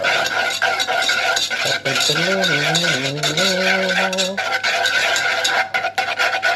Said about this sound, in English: Keep whisking. Whisking in the jar, oh yeah.